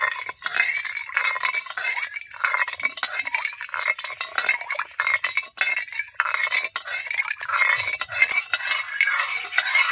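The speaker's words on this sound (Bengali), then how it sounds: "চিনিটা এবার দিয়ে দেব এবার মিশিয়ে নেব" Sugar is stirred into water in a pan with a spoon, giving continuous close scraping and light clinking strokes in a fast, uneven rhythm.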